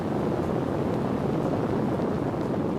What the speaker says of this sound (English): This is the noise produced by the LEM's ascent engine during a ground test.